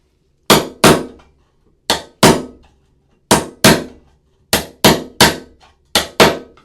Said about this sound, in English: Tile floor, I like to cut it with an actual wood chisel.